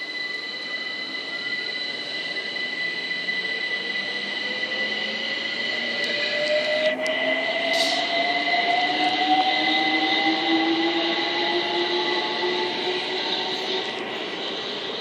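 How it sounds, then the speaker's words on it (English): A London Overground Class 378 electric train pulls away from Brockley station on the Brighton Main Line, its traction motors whining in steadily rising tones over a constant rumble, close by and with no voices. "now getting ready to depart is 378-220 with the 1517 London Overground service to Highbury and Islington from Crystal Palace"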